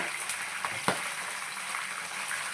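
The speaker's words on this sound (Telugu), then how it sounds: "పొరవ చికెన్ మళ్ళీ వాయిలో వేసుకొని వేయించుకున్నాం చక్కగా" Green chilli chicken frying in a pan, a loud steady sizzle with a sharp crackling pop near the start.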